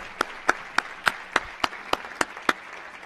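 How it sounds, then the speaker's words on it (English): Audience applause at an international oral presentations evening, with a few distinct loud claps standing out in a steady, close rhythm over a soft wash of clapping. "let's give them a round of applause."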